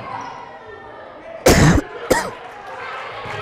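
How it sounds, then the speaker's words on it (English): Two sharp coughs, close and loud, a short burst followed by a briefer one, break through background chatter and crowd noise at a girls' varsity basketball game. "Excuse my cough."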